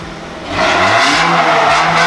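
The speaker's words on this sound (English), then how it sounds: "Give it another rev." A Toyota Soarer SC400 engine running without catalytic converters revs up sharply after a brief quieter start, then holds a loud, rough, raspy exhaust note close by with no voices.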